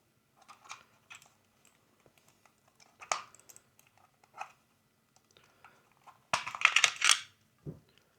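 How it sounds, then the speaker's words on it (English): Scattered plastic clicks and rattles as two AA batteries are fitted into a Logitech MK220 wireless mouse, ending in a louder cluster of snaps as the battery lid is pressed shut, then a soft thud. "So first we'll put the bottom battery, then the upper battery, and we'll close the lid."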